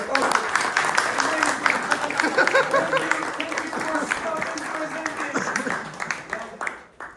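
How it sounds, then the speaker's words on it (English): Applause from a small class audience after a student presentation, scattered clapping mixed with chatter and voices, fading out toward the end. "Clap it up."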